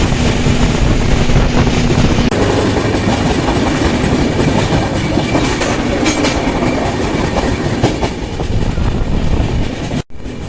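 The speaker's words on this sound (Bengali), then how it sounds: "আমাদের ট্রেন এখন দক্ষিণেশ্বর স্টেশনে ঢুকে গিয়েছে" The Jammu Tawi Express, train 13151, rolls into Dakshineswar station: a loud, continuous rumble of wheels and carriages with faint rhythmic clatter and wind buffeting, fairly steady throughout, with a sharp drop near the end.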